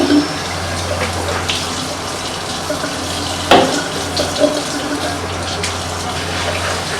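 Running water pours steadily while dusty household items are washed by hand, a continuous splashing hiss with a brief clatter partway through, close and fairly loud with no talking.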